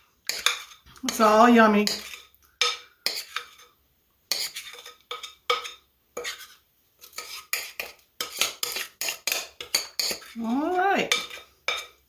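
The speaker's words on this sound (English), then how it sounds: "I'm trying to scrape out as much as I can out of here" A utensil scrapes rhubarb cake batter from a mixing bowl in a home kitchen, giving repeated short scraping and clinking strokes with brief pauses. A person speaks briefly at the start and again near the end.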